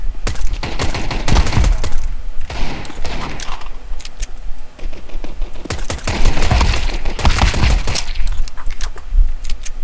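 Rapid bursts of automatic gunfire in a Counter-Strike 2 competitive match on Dust 2, loud and dense with sustained fusillades, short pauses and sharp impacts throughout.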